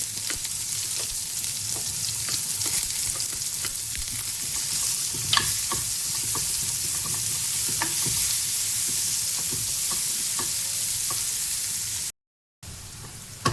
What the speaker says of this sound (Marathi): जिरा टाकूया थोडा हिंग टाकते कापलेला कांदा टाकते